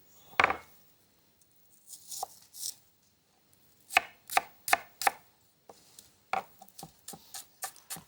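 A knife chopping onion on a cutting board, scattered single cuts then quick bursts of several sharp taps, fairly close, with quiet gaps between.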